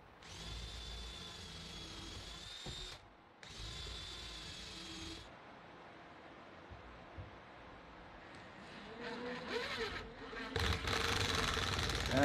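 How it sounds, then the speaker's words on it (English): A power drill pre-drilling holes in maple wood whines in two steady bursts, pausing between them, followed by scraping and clattering tool sounds that grow louder at the end. "I felt it really important to pre-drill my holes before I threw screws in"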